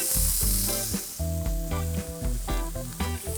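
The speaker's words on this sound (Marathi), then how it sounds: "मस्त असं परतून घ्यायचं." Onion, cauliflower, carrot and tomato sautéing for mint pulao sizzle up close, broken by repeated scraping stirs of a spatula that make the hiss surge and dip in an uneven rhythm, with no talking.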